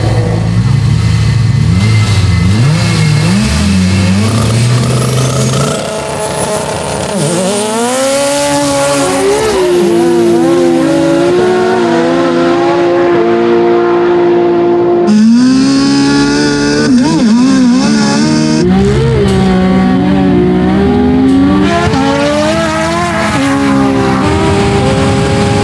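A 1300hp Skyline GT-R and a 1480hp Lancer Evo VI, both all-wheel drive, in a drag race, loud engines revving and climbing through gears with rising, falling pitch sweeps, sustained and close throughout.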